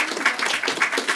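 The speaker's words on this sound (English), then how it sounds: "Please give a welcome applause for everybody" Audience applause welcoming panelists at a university event on fossil fuel divestment, a brief burst of dense, close clapping with no voices.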